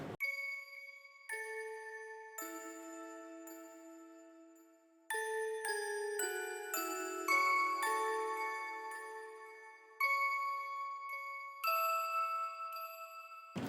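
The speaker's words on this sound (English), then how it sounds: "So together the bells sound something like this." Bells panned left and right in a song intro, bright chiming notes struck one after another in a steady melodic pattern, clean and alone with long ringing tails.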